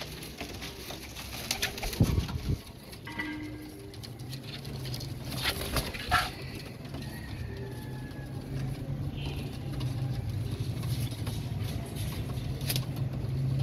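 Domestic pigeons at a home loft coo softly in low, rolling calls, with light patter and rustling of wings and feet nearby and faint traffic beyond.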